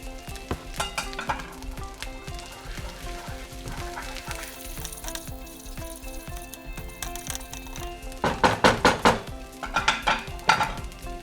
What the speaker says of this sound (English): And now we add 3 green chilies, finely chopped.